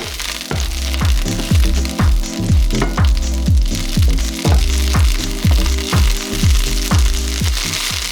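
Dandelion leaves frying in a hot pan, loud close sizzling crackle punctuated by a regular rhythm of sharp scraping stirs, roughly two per second throughout.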